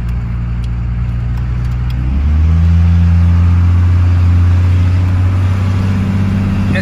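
A 1993 Dodge Ram W250 4WD truck pulls away onto back roads, its engine idling steadily before rising into a louder, sustained drone as it accelerates, close and with no talk.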